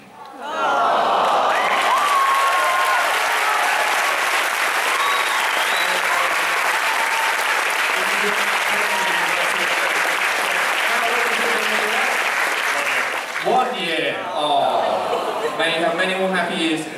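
A large crowd at a comic convention theatre cheers and applauds loudly and continuously, then the clapping breaks off and a voice begins speaking near the end.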